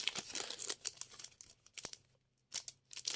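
Football trading card packs from a Süper Final 10th-anniversary collection being torn open by hand, a run of close crinkling foil rips in quick bursts with a short quiet gap before more tearing.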